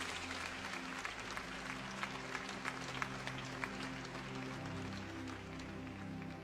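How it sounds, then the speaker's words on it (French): A church congregation at a revival service in Haiti claps steadily and continuously, a broad wash of applause with scattered sharper claps heard at a moderate distance, and a low hum beneath it. "Put your hands together for Jesus."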